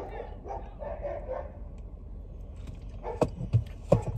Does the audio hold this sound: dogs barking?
yes